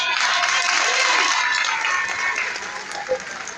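Audience applause at a speech by the president of an association of twins in Côte d'Ivoire, a dense wash of clapping that holds steady, then thins slightly toward the end, with crowd noise mixed in.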